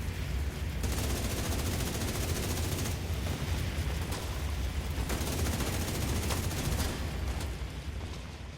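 Sustained, dense gunfire from a sniper turret in The Division 2, a loud continuous barrage with sharp bursts cutting through a heavy low rumble, no voices.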